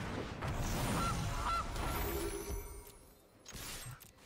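A goose honk rings out from the Gilded Goose card in a Magic: The Gathering video game match, a short sharp call over busy game effects and background clatter.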